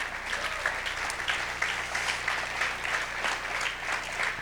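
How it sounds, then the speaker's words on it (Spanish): A church congregation claps together for the Lord at a Spanish-language sermon, giving a dense, sustained round of applause with a slight rhythmic pulse, loud and continuous from start to finish. "Dale un fuerte aplauso al Señor."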